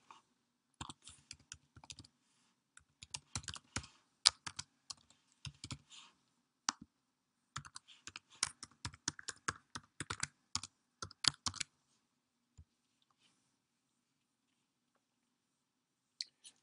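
Close, quiet keystrokes on a computer keyboard while logging in, irregular bursts of typing clustered in two runs with brief pauses, then a couple of final isolated key presses.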